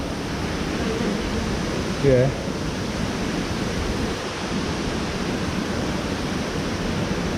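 An icy river runs with bits of ice floating down it, a steady, full rushing wash close by. Someone says one brief word partway through.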